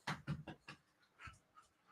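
A dog named Strawberry pants in quick, breathy bursts close by, a run of four rapid huffs followed by a few softer, scattered breaths, with no talking.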